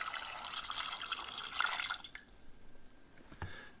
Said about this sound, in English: So you'll fill up your rock tumbler until the water just covers the rocks.